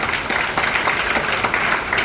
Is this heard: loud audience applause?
yes